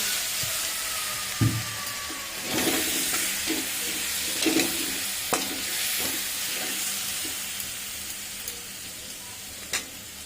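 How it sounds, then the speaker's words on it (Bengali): Fried potatoes and a splash of water go into sizzling spice masala for a paneer curry: a steady oily hiss fills the pan, with a few sharp knocks and scrapes from stirring. "এবার আমি এখানে ভেজে রাখা আলুটা দিয়ে দেব, আর দেব অল্প একটু জল"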